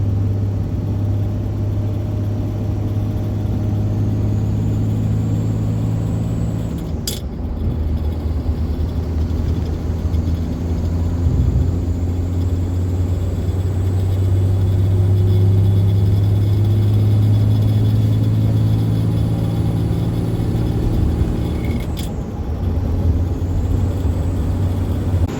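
Interior drone of a 2006 Ram 3500 Cummins diesel pickup with a G56 manual and Gear Vendors overdrive, running in sixth gear on the highway: a deep, steady engine hum and road rumble that swells midway, with two brief sharp clicks.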